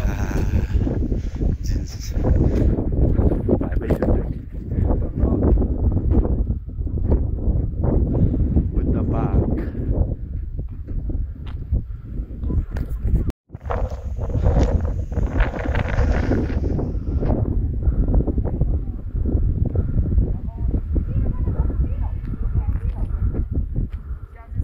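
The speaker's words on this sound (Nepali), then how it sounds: "हावामा त्यस्तो हावाले उडाएर घोप्टाइदिइहाल्यो" Strong gusty wind buffets the microphone outdoors at a park, a loud rumbling roar that comes and goes, with people talking over it.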